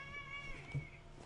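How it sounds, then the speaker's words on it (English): A faint cat meows once, a drawn-out, slightly wavering cry over a low steady hum. "Stupid fat kitty's making noise."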